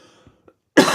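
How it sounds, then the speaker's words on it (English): One sharp, close cough bursts out after a near-silent moment with faint breath sounds before it. "quick cough"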